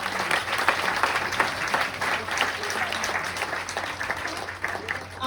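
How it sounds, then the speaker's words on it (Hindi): An audience at a Hindi-language RCM World meeting claps steadily and continuously, a dense wash of many hands at full loudness throughout, with no speech over it. "एक बार ताली बजाइए सर।"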